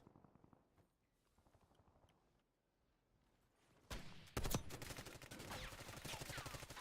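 Gunfire in a video game during a live gaming session, starting quiet and then breaking into loud, dense bursts of rapid shots from around the four-second mark, with a sharp crack just after and sustained firing to the end.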